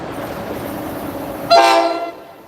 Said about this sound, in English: That fucking horn was louder than I thought it would be.